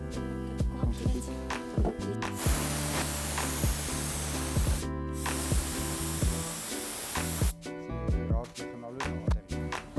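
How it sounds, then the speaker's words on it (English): A paint spray gun hisses in long bursts, with brief pauses between passes, close by over a humming background and clicks. "Dan spray ek so aan die ander kant ook."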